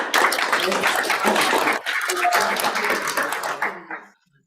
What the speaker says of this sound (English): Can we give him another round of applause for that beautiful piece?